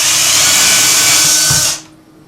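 Close, loud whine of a power drill boring holes through a pine board for a wood duck nesting box, running steadily before cutting off abruptly near the end.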